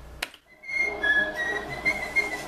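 Cheerful whistled melody from the Steamboat Willie cartoon, a clear sustained tune after a brief click, moderately loud and alone.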